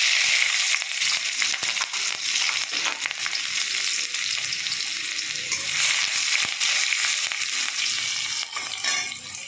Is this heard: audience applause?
no